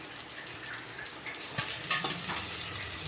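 Aromatics and leek sauté in a pan for squid adobo, a steady near sizzle with repeated clinks and scrapes of a spatula stirring.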